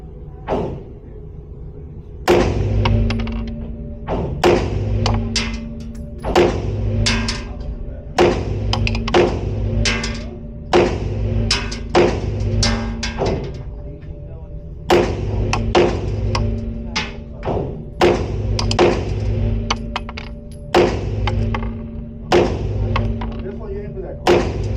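Walther Q5 Match SF pistol fired at a target from 21 feet at an indoor range, sharp reports in an irregular series of single shots and quick pairs, each ringing briefly.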